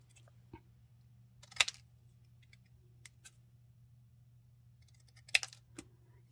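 Scissors snipping paper floral images for a spring robin craft, a few sharp, quiet cuts spaced out over a low steady hum.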